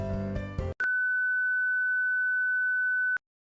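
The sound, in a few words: beep in the Lobotomy Corporation video game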